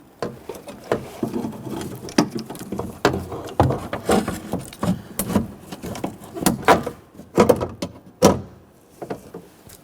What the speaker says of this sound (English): feed the regulator down inside the door